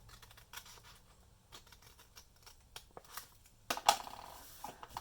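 Journal cover material being cut, heard as a few faint, quiet snipping and crisp cutting sounds close by, with a sharper cut near the end.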